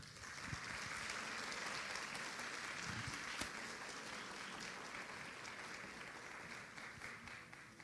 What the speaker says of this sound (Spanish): Le recibimos también con un fuerte aplauso.